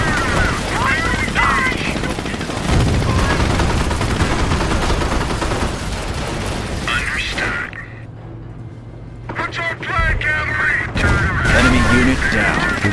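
Gunfire in the video game Company of Heroes crackles as dense, rapid bursts under steady voices, pausing briefly midway before erupting again, loud and close with a continuous battlefield din.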